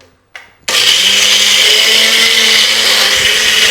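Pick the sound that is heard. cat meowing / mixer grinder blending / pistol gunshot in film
mixer grinder blending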